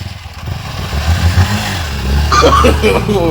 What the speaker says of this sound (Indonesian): Mogok motor teh.